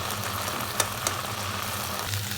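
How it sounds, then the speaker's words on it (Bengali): Rice and minced meat frying in a pan for a biryani keema dish, a steady close sizzle with a few soft stirring clicks and no talking. "এখানে চালটা আমি ভালোভাবে কষিয়ে নিচ্ছি"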